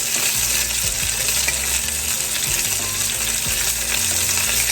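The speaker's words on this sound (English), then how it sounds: "Now we're going to go in the same skillet with our sauce right on" Chicken parmesan sizzles steadily in a skillet, with sauce spooned over the golden-brown chicken. The frying hiss is loud and continuous, with a few soft stirring knocks and no voices.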